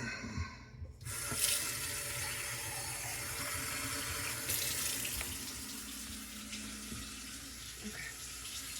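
Tap water runs into a measuring cup in a home kitchen while baking bread, a steady close splashing stream that starts abruptly and continues, shifting slightly in tone as the cup fills.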